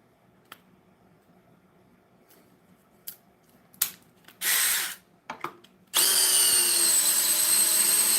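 A cordless power drill drives a 5-inch flat lock screw, with a few short bursts and then a loud, sustained run that ends the clip, close and alone.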